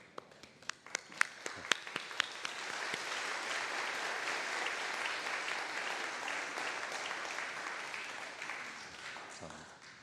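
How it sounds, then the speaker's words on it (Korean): A church congregation applauding to welcome a visiting brother, starting with a few separate sharp claps that swell into sustained, even clapping from the whole room, then tapering slightly at the end. "잠시 자리에서 일어나시면 우리 박수로 환영하겠습니다."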